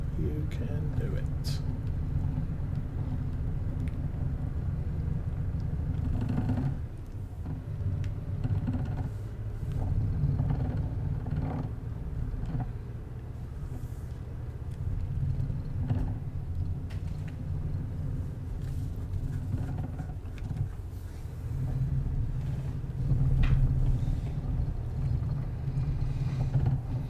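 Low truck engine rumble on the road in Euro Truck Simulator 2, driving from Dresden to Prague, steady and continuous throughout with someone talking over it.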